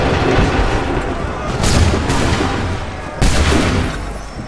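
A cannon volley in Assassin's Creed 3, loud booming blasts layered into a dense roar, with two sharp fresh bursts of fire landing partway through and near the end, no voices present.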